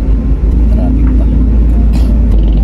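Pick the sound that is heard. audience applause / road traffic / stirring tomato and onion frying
road traffic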